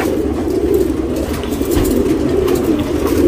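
Pigeons coo in a low, throaty, continuous murmur close by, steady and fairly loud, with a faint rustle of feathers and no talking.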